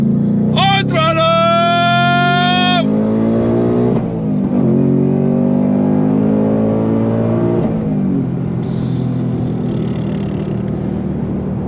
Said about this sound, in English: It just turns your brain to mush how this thing accelerates, how it sounds